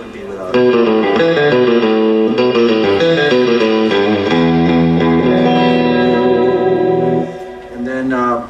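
Surf-style electric guitar played through an Echoplex-mimicking solid-state echo pedal, with a second echo placed behind a reverb unit: loud, close sustained notes and chords with washing echo tails, heard alone before a short pause and a final chord.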